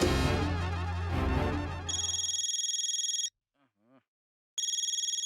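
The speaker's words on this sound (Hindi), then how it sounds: "सबसे पहले तो चंकी को फोन करो, पूछो क्या है क्या ये।" A telephone rings during a call in an Indian TV sitcom: a loud, pulsing electronic ringtone cuts in as background music fades, stops for over a second with only a couple of soft sounds, then resumes.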